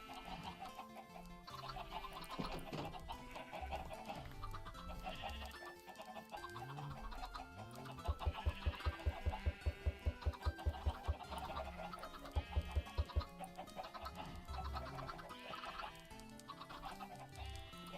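Chickens cluck and squawk repeatedly in the video game Minecraft, heard over continuous game music with rhythmic percussion and no talking.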